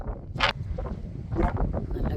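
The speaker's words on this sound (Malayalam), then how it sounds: "ഇപ്പോൾ നല്ല കാറ്റുണ്ട്" Strong, cold wind blows across an outdoor vegetable garden, a low rumbling buffet with gusty bursts that surge and fade over a couple of seconds.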